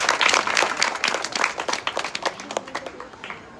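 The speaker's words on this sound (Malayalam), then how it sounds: "സിപ്പി സാറിനെ സ്വാഗതം ചെയ്തുകൊണ്ട് നമുക്കെല്ലാവർക്കും ഒരു കൈയടിക്കാം" An audience at a library inauguration claps to welcome a guest, a short burst of applause that starts full and thins out into scattered claps over a few seconds.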